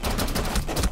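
Rapid automatic gunfire in the tactical shooter Rainbow Six Siege, a dense burst of close, loud shots rattling in quick succession for about a second.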